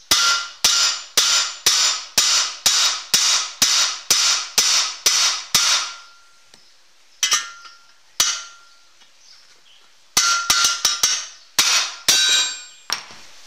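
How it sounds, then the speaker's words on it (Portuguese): Repeated sharp metallic hammer strikes on metal while building a chopper bicycle, ringing and evenly paced at first, then a pause with a few isolated blows before another quick run of hits. "tomar muito cuidado para não errar a martelada"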